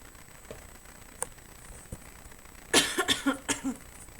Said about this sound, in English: Got the coughs for some reason, excuse me.